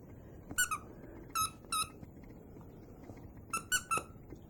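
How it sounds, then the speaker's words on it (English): A dog's squeaky toy squeaks in short, sharp bursts, a pair of quick squeaks early, two more after a pause, then a rapid cluster of three, fairly close in an otherwise quiet room. "And that's your squeaky toy?"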